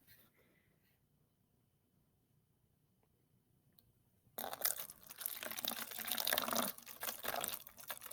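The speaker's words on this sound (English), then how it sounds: "I will hold the bottle while you pour." Vinegar pouring into a bottle, a loud, steady splashing rush of liquid that starts abruptly midway after a quiet stretch and continues up close to the end.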